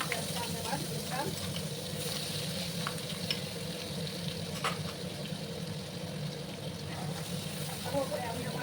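Chopped onions sizzle in hot oil in a pan for egg curry, giving a steady, close crackle that runs the whole time, with a few faint clicks of stirring mixed in.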